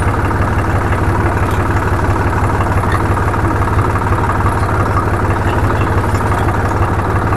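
A 2011 Swaraj 735 FE tractor with a big silencer idles steadily, its loud, close diesel chugging forming an even low rhythmic throb throughout with no speech.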